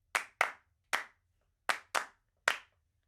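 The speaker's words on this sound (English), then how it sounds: "And then just a regular clap." Regular flat hand claps recorded for a Logic Pro session at one to five feet from the microphone: six crisp, sharp claps with uneven spacing, some coming in quick pairs, and nothing else behind them.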